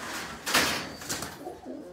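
A pair of Lakka pigeons coos close by, giving a loud breathy burst followed by softer rolling coos that trail off.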